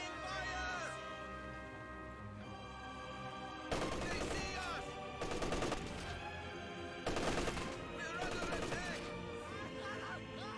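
Short bursts of heavy machine gun fire from an MG34 team in the strategy video game Company of Heroes 2, three loud volleys rattling over a steady bed of game music and battlefield ambience.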